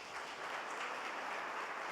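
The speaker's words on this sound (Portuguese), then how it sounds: "Palmas para Jesus." Congregation clapping for Jesus during a revival church service, a soft, distant wash of steady applause lasting a couple of seconds.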